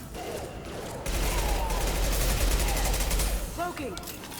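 Rapid submachine gun fire in the video game Mass Effect 2, a sustained rattling burst amid battle noise, with someone talking over it.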